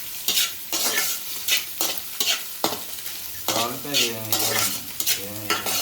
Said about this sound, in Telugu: ఇప్పుడు క్యారెట్, క్యాప్సికము, ఆనియన్స్ అన్నీ వేసేసుకోవాలి ఇందులోనే